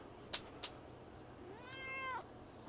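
Two short taps, then a single drawn-out cat meow rising and holding, fairly close and clear against a quiet room.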